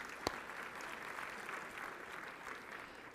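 A large audience applauds at a formal anniversary gala, a steady dense wash of clapping heard from within the room at moderate level, with no speech over it.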